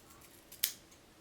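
A single quick, crisp snip of scissors cutting hair into V-shaped bangs, close and isolated against a quiet room.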